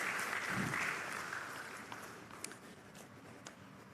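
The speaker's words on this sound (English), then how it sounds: "Let's clap for her one more time." Conference audience at a retail congress applauding, a dense wash of clapping that is loudest early and gradually thins toward a few scattered claps by the end.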